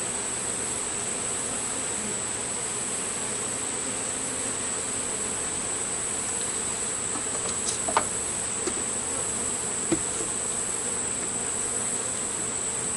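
Honeybees buzz steadily during a hive inspection, a dense, continuous insect drone filling the air with a few faint clicks and knocks from handling the boxes.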